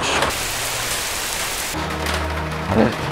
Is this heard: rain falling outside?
yes